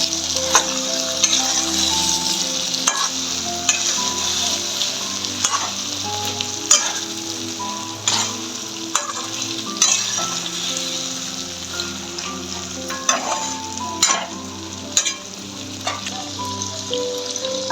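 Spicy masala brinjal sizzles and fries steadily in a pan, with repeated scraping stirs and small clinks of the spoon over a continuous crackle.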